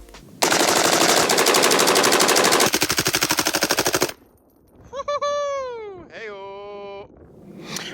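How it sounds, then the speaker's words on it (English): A full-auto SCAR Heavy rifle chambered in .308 fires a long, rapid, very loud burst, then slows into distinct shots before stopping abruptly. A short wailing, catlike sound follows. "bring out a full auto SCAR Heavy chambered in 308."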